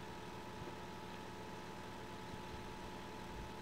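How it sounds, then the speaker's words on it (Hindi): A tractor engine in the farming video game Farming Simulator 16 idles as a steady, faint, low droning hum with no variation and no voices. "ये ट्रैक्टर का आवाज ही अलग है यार"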